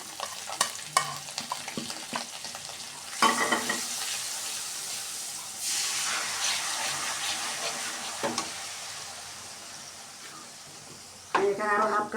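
Soy sauce and chilli flakes hit fried garlic in a hot pan for tteokbokki, sizzling loudly while a spoon scrapes and stirs in irregular bursts, with metal clinks near the end.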